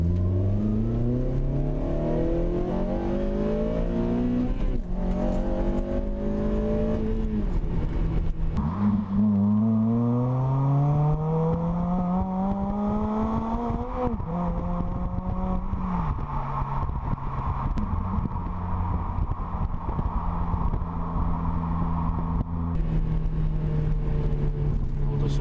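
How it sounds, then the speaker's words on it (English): Car fitted with a cat-back exhaust pulling hard from second gear, engine note climbing repeatedly through the gears with upshift dips, a steady raspy exhaust drone throughout and no talking. "The engine's all nice and warm, so let's give you a little pull from second."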